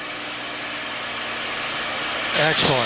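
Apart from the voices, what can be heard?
P-51 Mustang propeller engine as the throttle is reduced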